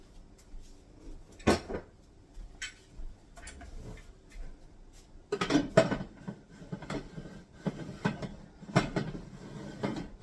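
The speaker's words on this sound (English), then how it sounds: "now you just got to put that lid on" Metal canning lid and ring being fitted onto a glass jar, with sharp clicks, clinks and scraping taps in irregular bursts, close and without talk.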